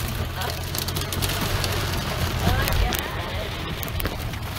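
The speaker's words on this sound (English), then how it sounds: "It is hailing and raining like crazy right now." Heavy hail mixed with pouring rain, a dense continuous roar of hard pellets and water striking surfaces nearby, steady and loud throughout.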